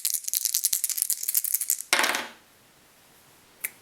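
Dice rattle and clatter rapidly in a board game, a burst of hard clicks ending in a final tumble, followed by quiet and one faint click.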